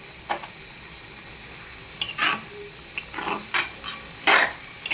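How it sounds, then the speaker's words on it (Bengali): Spatula scraping and stirring lentil fritters with bottle gourd greens in a pan, a series of short rasping strokes spaced irregularly over a soft background hiss, with no talking. "এখন একটু আবার নাড়াচাড়া দিয়ে দিলাম।"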